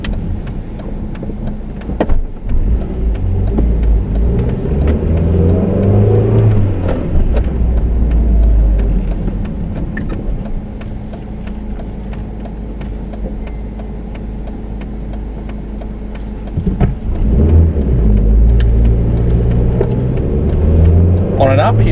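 A 2005 Mercedes A200 W169 with a manual gearbox accelerates on the road, its engine note rising and settling in steady sweeps as it gathers speed, with cabin road noise underneath and someone talking over it.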